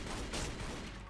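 Enemy gunfire in Tomb Raider Legend, a dense burst of rapid shots packed into a single loud second of game sound with no voices.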